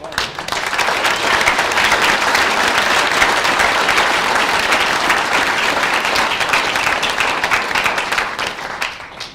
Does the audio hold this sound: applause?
yes